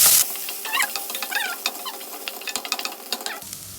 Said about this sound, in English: green chilies, ginger, and saute for 30 seconds